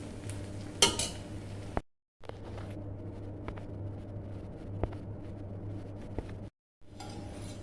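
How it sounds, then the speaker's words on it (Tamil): A spoon scrapes and stirs mushroom biryani rice from the bottom of a pot, giving soft rustling and a few sharp metallic clinks against the pot over a steady low hum, with two brief gaps of silence. "நல்லா இப்படி அடியிலேருந்து நல்லா எடுத்து ஒரு மிக்ஸ் பண்ணி விட்டிங்கன்னா போதும்"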